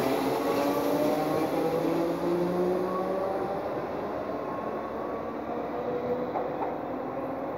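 A Merseyrail Class 508 electric train at Sandhills station rumbles steadily and loudly through the whole stretch, with a continuous motor whine and rail noise and no voices.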